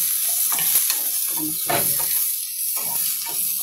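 Squid sizzles and crackles in a hot pan, a close, steady hiss broken by louder surges of spattering as pieces fry, with no voices.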